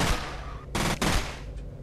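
Gunfire in the F.E.A.R. first-person shooter game, dense bursts of shots with two loud volleys standing out over a continuous noisy battle din, no voices.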